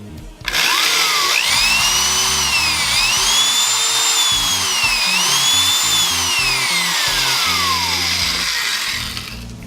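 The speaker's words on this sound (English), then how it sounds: "Okay, so, hand power tool." A handheld power drill runs continuously at close range, its motor whine rising and dipping as the speed changes over a steady mechanical rattle, loud throughout with no talk.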